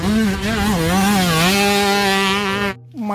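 A toy motocross motorcycle gives off a loud, buzzing electronic engine whine that wavers in pitch for a few seconds, then cuts off abruptly.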